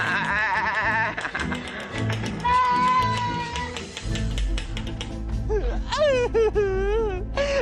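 A goat bleats repeatedly in wavering, close cries, some long and quavering, with background music and commotion underneath.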